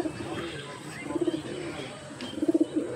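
Madrasi pigeons coo nearby in two clear bursts of rolling, throaty pulses separated by quieter murmuring, over a soft ambient background.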